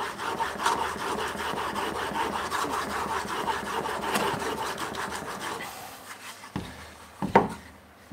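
A hard steel plane iron bevel is honed on a sharpening stone in a woodshop, a steady rhythmic gritty rasping of repeated strokes, close up, that thins out near the end into a few scrapes and knocks.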